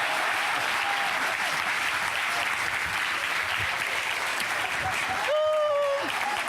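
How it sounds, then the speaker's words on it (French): Sustained applause from a comedy show audience, a thick, even wash of clapping for several seconds with a few voices and whistles rising near the end. "c'est magnifique, on l'applaudit."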